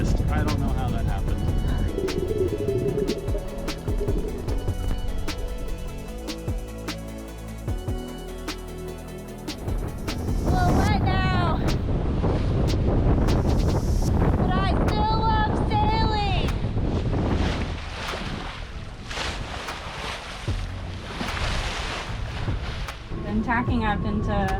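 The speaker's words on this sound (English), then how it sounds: "Tacking up into nearly 30 knots of wind. Crazy amount of wind coming down from the mountain." Strong wind of nearly 30 knots gusting down from a mountain while a sailboat tacks, loud buffeting roar against the microphone with water and rigging noise, and voices heard partway through.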